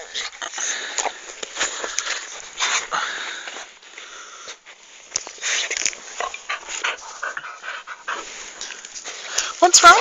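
A dog whines and pants close by in short, restless, breathy bursts, with soft whimpers scattered through, continuing without a break.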